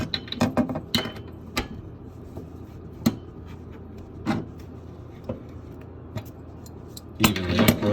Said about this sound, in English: Then you just take a large crescent wrench and just tighten it up.